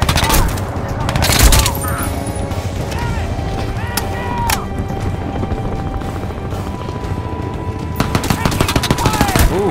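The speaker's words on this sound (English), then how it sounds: "I can hear those bullets whizzing above my head." Heavy gunfire from the Crysis 2 Remastered video game, with bullets whizzing overhead amid sustained machine-gun bursts and booming shots, loud and continuous with a voice over it.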